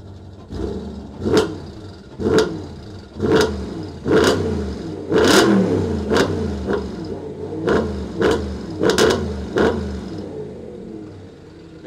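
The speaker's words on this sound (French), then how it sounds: "Et là, je suis qu'à 3500 tours." An Audi RS3 engine revs repeatedly up to about 3500 rpm, a series of sharp throttle blips rising and falling roughly once a second, loud and close with a rumbling idle between, with no talking.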